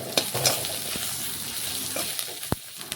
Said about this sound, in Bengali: পেঁয়াজের সাথে মিশিয়ে পেঁয়াজটা একটু লাল লাল ভেজে নেব।